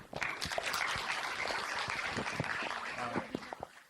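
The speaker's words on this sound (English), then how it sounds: "I would like you to give her another big round of applause." Audience clapping after a teacher's presentation at a show-and-share session, a dense round of applause that holds steady and tapers off near the end, with faint talk underneath.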